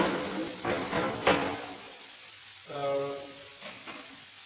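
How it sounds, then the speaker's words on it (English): Onions frying over high heat in a pan, a soft continuous sizzle with bursts of stirring and scraping, fairly quiet, with a single brief spoken word near the start. "keep everything on a high heat. So we want to make sure the onions gets nicely golden brown."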